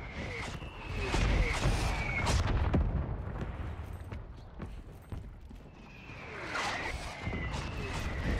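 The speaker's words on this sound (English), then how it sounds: "Mortar strike inbound now" Mortar strike explosions thud in the Urzikstan map of the game Call of Duty: Warzone 3, heavy booming blasts rolling over continuous battlefield rumble, with scattered crackling impacts throughout.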